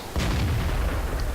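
A tank cannon round striking a Panther in World of Tanks, one heavy booming impact with a low rumbling tail, loud and close.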